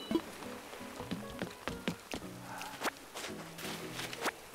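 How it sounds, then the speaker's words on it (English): Rain in Animal Crossing New Horizons, a soft patter under a run of crisp, rhythmic footstep taps and small clicks from the game, fairly quiet and close. "Hey, it's raining."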